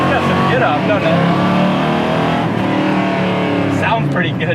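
A 1972 Chevrolet Nova SS engine revs loudly and steadily, with rising bursts of acceleration near the end.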